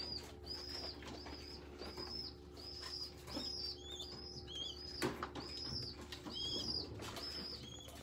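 Pigeons coo softly in repeated short calls, with bursts of wing flapping and a few chirps, all fairly faint and without talk.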